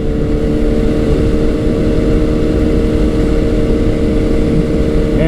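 Kawasaki Z900 motorcycle engine running hard toward redline, a loud continuous engine drone with steady harmonic tones and a slight rise in pitch near the end, with no voices.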